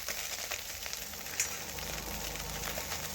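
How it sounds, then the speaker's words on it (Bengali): Small morola fish fry in hot oil in a pan, giving a continuous crackling sizzle with a few sharper pops. It is close and moderately quiet, with no talking. "আমি ওপর থেকে আবারও একটু মাছগুলো উল্টে একটু তেল দিয়ে দিলাম।"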